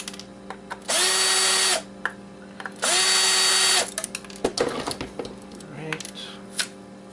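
Power drill unscrews screws from circuit boards pulled from scrap electronics, two separate whirring bursts of about a second each, followed by clattering and handling noises.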